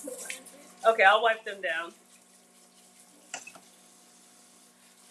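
Water runs from a kitchen tap as dishes are rinsed before serving a home-cooked meal, a soft steady wash mostly buried under close conversation and fading to a faint trickle.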